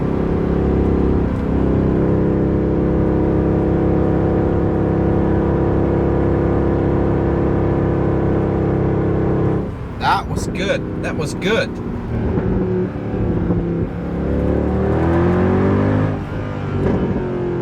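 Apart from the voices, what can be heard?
car engine with wind and road noise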